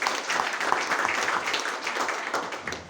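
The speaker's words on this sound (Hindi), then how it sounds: "एक जबरदस्त तालियां प्लेटिनम की।" Audience applause for a platinum-rank announcement at a business plan presentation: dense, steady clapping from a large crowd that fills the whole stretch and fades slightly at the end, with no talking over it.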